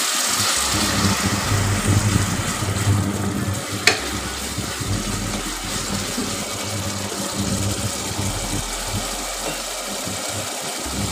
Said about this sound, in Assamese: মছলাখিনি ভাজি লোৱা হৈ গৈছে।